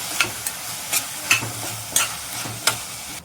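Potatoes with salt and turmeric being stirred in a pan, about six evenly spaced scraping strokes over a steady low sizzle, close and alone.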